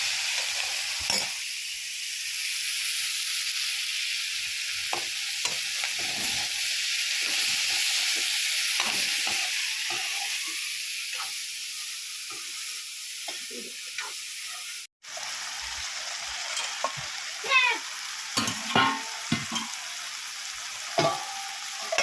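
Cut brinjal frying in oil in a pan, giving a continuous loud, even sizzle. After a brief break it settles into quieter crackling with scattered scrapes and clinks of stirring, and nobody speaks.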